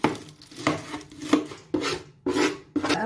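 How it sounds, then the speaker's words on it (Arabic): A knife minces peppers on a board in quick, close strokes, roughly seven rhythmic scraping chops with short pauses between them. "رح نفرم الفليفل"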